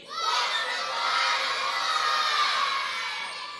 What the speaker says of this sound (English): On 3, I want you to scream this out.